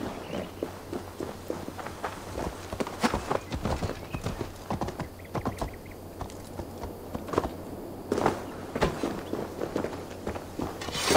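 Horse hooves in Assassin's Creed Valhalla clip-clop in an uneven walking rhythm, with scattered sharp knocks over a faint background hum.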